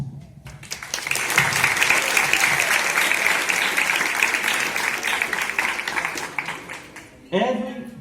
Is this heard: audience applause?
yes